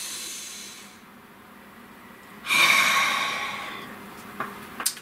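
A single deep breath, a long, close, airy inhale and exhale with a soft hiss, followed by a couple of faint breathy clicks in an otherwise quiet room.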